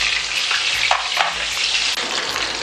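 Besan-coated pomfret fish sizzling in hot oil after being flipped, a loud, close, continuous frying hiss with a few brief bursts of spatter, no talking.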